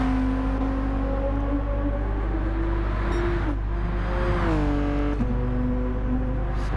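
Race car engines in the Gran Turismo 7 video game at Bathurst drone steadily and loudly, with pitches rising and falling as cars shift and pass, one sweeping downshift midway, and no voices over them.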